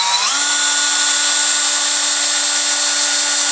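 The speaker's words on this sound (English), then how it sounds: "We got our big drill bit here. Doesn't have to be anything special because this is very soft plastic." A power drill with a large bit bores through very soft plastic trim on a third-generation Toyota Tacoma during a ditch light install. It gives a loud, steady whine that rises in pitch as it spins up, then holds alone throughout.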